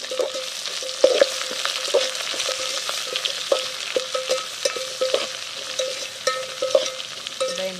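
Green chilies frying in hot oil in a pan while cooking egg biryani outdoors in a farm garden. A steady, close sizzle runs throughout, broken by regular sharp clinks of a metal spoon against the pan as the chilies are stirred.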